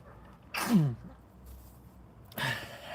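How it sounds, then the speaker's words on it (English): A single sharp, close sneeze with a falling pitch, followed by a pause and then a breathy exhale or sniff. "I'm about to sneeze."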